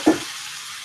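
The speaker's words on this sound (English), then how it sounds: "you're going to hear the sizzle any minute now" Lamb hitting hot oil in a pan, a quick soft thud followed by a steady, hissing sizzle that stays close and even.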